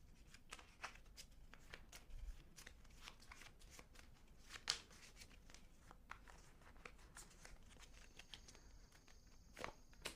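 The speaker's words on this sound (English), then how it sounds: "Shuffle our deck, which actually has some beef to it already." A deck of cards for the Renegade Games G.I. Joe deck-building game is shuffled at a tabletop game night, giving repeated quiet riffling bursts and faint crisp patters throughout, close up with no talking.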